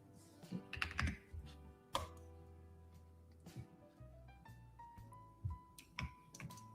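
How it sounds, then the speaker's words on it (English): A mechanical computer keyboard is typed on in short clattering bursts of sharp clicks, close and fairly quiet, while a steady electronic tone and a low hum run underneath. "I like the feeling of these keys, you know? It makes it sound very important when I click them."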